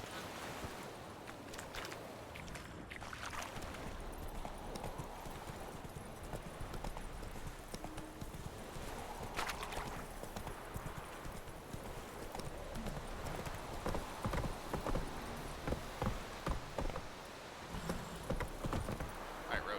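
Roach, the horse in The Witcher 3, clip-clops steadily on a ride, the rhythmic hoofbeats soft and continuous over faint wind and ambient game noise.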